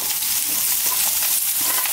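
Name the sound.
vegetables stir-frying in olive oil in a pan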